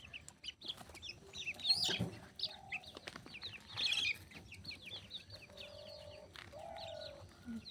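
Chickens and small chicks cluck and chirp near the microphone while being given food at home, with soft calls and a couple of louder bursts over a steady outdoor background.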